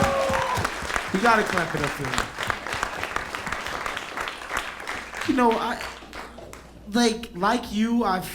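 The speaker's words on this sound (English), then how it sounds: "We gotta clap it up for him." A comedy show audience at The Bootleg Theater in LA claps steadily throughout, with a voice talking loudly over the applause and more speech breaking through near the end.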